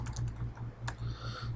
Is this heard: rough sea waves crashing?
no